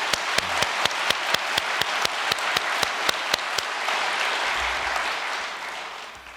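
Loud, sustained applause of thanks rises from a congregation at a New Year prayer meeting, a dense wash of clapping with a few sharp, evenly spaced claps standing out before it gradually tapers off.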